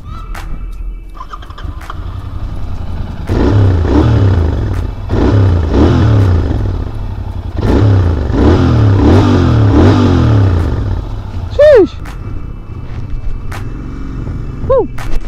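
A 2022 Royal Enfield Interceptor 650 motorcycle engine rumbles and revs repeatedly, rising and falling in loud bursts, followed by a couple of sharp chirps and quieter idling.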